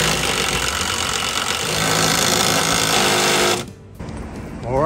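Outboard engine on a small fiberglass boat running with a fast, buzzing mechanical drone, steady and loud for several seconds before cutting out abruptly, then a quieter sound resumes.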